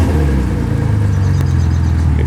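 A boat engine idles steadily on flushing water during routine maintenance, a loud continuous mid-pitched hum that holds without revving, with no voices over it.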